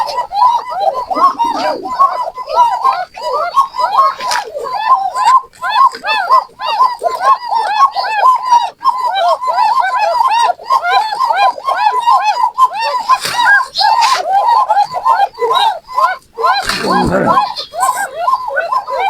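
Bashiraj Koka pigeons coo in a continuous run of soft, rolling, repeated calls close by. A couple of brief voices or bumps break in near the end.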